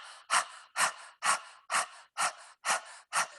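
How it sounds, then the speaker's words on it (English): Rapid Breath of Fire yoga panting, seven sharp forceful exhales in a steady rhythm about two per second, close and clear with short quiet gaps between them and no talking. "So Breath of Fire, if we start as if you're panting."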